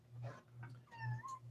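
A cat cries out in a short series of plaintive, wavering meows, close and clear over a faint low electrical hum.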